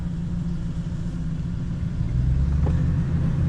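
A Ford Ranger pickup truck's rough engine idles close by, a low rumbling drone that thickens and grows slightly louder partway through.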